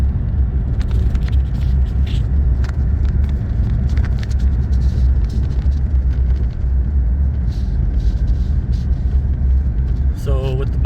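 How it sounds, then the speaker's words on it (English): Car driving in four-wheel drive through snow and ice on the way to Lake Tahoe in a blizzard, a steady low road rumble and engine drone heard from inside the cabin, with occasional clicks and a brief tonal chirp near the end. "So we've been in four-wheel drive for a while now. Take it slow when there's ice and snow."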